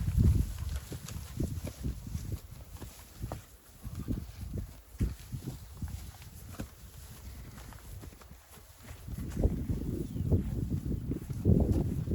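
Hooves clop irregularly on the ground as a small herd of heavy draft horses walks nearby, with soft ambient rustle and louder hoofbeats toward the end.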